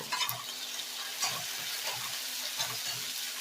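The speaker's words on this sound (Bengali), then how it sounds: "পেঁয়াজগুলোকে একটু ভেজে নেব।" Onions frying in hot oil, a soft, fairly faint sizzle with gentle stirring scrapes and light knocks recurring every half second or so.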